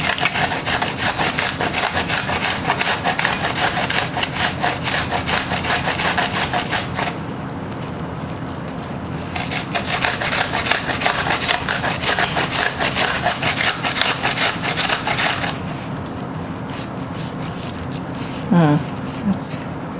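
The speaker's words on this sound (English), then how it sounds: "So what we're going to do with this onion is we're going to grate it." Half an onion is rubbed over a small hand grater in fast, steady rasping strokes up close. Two short pauses break the grating.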